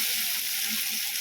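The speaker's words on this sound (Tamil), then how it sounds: "வெங்காயம் நல்லா வதங்கட்டும்" Onions sauté in a pan for egg manchurian, a brief, even hiss of frying at moderate level with no talk.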